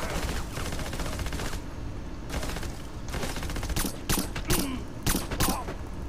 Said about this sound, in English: that other guy didn't even hear his own partner shooting his gun